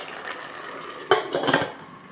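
A pot lid settles back onto a pan of simmering squid adobo, a single close metallic clatter with a brief rattle after a quiet kitchen hiss.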